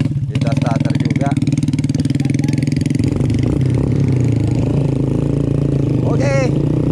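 A motorcycle is started and its engine runs with a loud, steady chugging idle close by, while voices talk intermittently over it.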